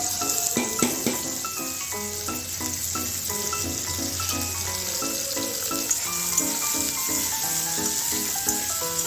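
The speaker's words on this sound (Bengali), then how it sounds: "লাল করে ভেজে নেব।" Garlic, green chili and chopped onion frying in hot mustard oil give a steady, close sizzle and crackle that runs unbroken for the whole stretch, with music playing over it and no talking.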